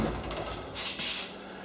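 An interior house door in a move-out walkthrough is opened and closed, giving a short knock and thud followed by a soft latching sound, close by and fairly quiet, with no talking.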